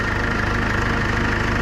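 A diesel skid loader idling while it warms up in the cold, a steady, close, even rumble with a faint rhythmic knock, running alone without any voices.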